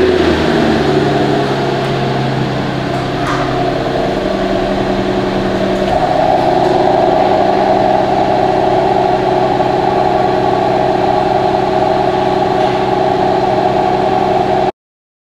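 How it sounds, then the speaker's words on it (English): A Mercedes-Maybach S680 V12 fires up and settles into a steady, smooth idle, heard close and loud with a constant low hum that continues unbroken to the end. "now we're gonna turn the car on for you"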